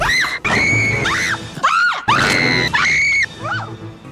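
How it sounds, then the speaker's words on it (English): A woman in a film scene lets out a run of loud, high, piercing screams, several long wailing bursts one after another with brief gaps between them. "I swear, speaking only in screams"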